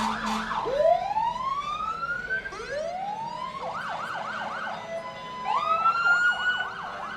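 Wailing and yelping siren from the Ralston Fire and Mass Casualty Unit 161 passing in a Fourth of July parade, cycling through long rising wails and rapid yelp bursts, loud and close over crowd ambience.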